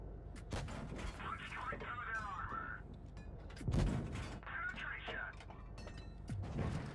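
FV4005 tank cannon in a video game fires with heavy, booming blasts, one sharp report near the four-second mark, over a steady mechanical hum while someone talks in Portuguese throughout.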